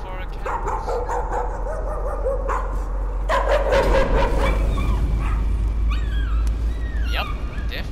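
Dog barking and yipping in the horror video game Layers of Fear, a run of sharp barks and whimpers over a steady low game drone, with game sounds and speech mixed in.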